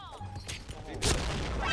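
Grenade explosion striking the player in an online shooter video game, a sudden burst of blast noise about halfway through that lingers as a rumbling crash, with game effects before it.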